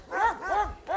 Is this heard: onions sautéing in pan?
no